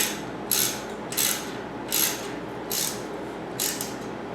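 A ratchet wrench tightens the disc brake rotor bolts on a mountain bike, giving five separate sharp clicking bursts at roughly even intervals over a steady background hiss, close and fairly loud.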